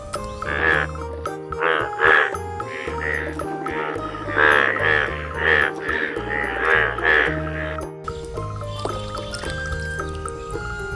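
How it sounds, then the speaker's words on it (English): Toy frog sound effect of repeated croaks in short rhythmic bursts, loud and close, followed by a musical jingle toward the end. "This is frog."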